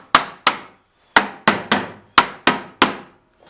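A mallet taps a pen-turning jig into holes in a wooden workbench: nine sharp, close wooden knocks in quick, slightly uneven groups.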